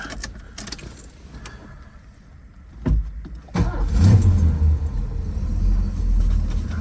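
A 1971 Ford Mustang Mach 1 starting: keys jangle, a short crank, then the engine catches and settles into a loud, steady idle rumble close by.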